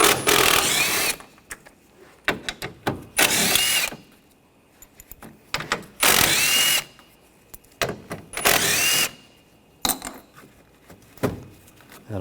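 Bursts from a power tool driving a 10mm socket on bolts while removing the front bumper cover of a 2013-2022 Buick Encore 1.4L L4; four loud whirring runs of about a second each, separated by quieter clicks and handling noise.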